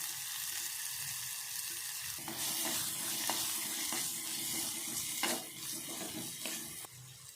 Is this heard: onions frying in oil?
yes